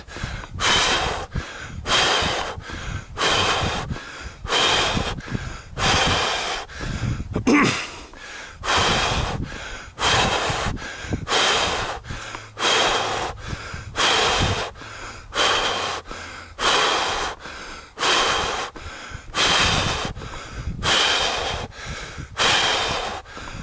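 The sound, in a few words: heavy breathing after a 5K run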